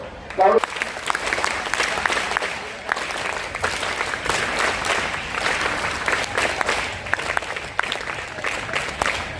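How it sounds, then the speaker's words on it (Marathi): A crowd at the inauguration of a school sports festival applauds steadily for several seconds, the clapping dense and even and fairly close, with voices speaking faintly underneath. "आपण टाळ्या सुरू करणार आहोत"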